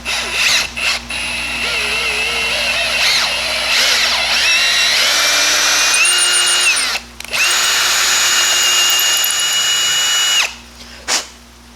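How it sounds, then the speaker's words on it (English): A power drill tapping threads into metal on a mower deck spindle runs steadily for several seconds, its whine rising and dropping in pitch as the tap binds and frees, with a couple of brief stops. "Normally I would not tap with a drill, but it's fine."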